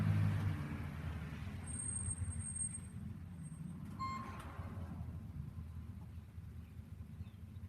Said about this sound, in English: I recognize that truck. I recognize the sound of them before they get here.